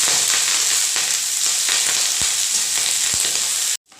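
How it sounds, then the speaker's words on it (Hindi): Chopped cabbage leaves fry in oil in a pan over a medium flame, a loud, dense, continuous sizzle with occasional stirring taps that cuts off abruptly at the end. "मीडियम फ्लेम के ऊपर 1 मिनट तक और फ्राई करने के बाद"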